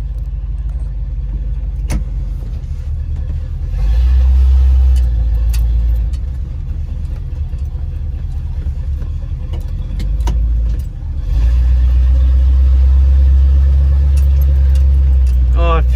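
A lifted square-body K10 truck drives along with a steady, close engine drone and road rumble that swells in two stretches, with a brief dip near the middle.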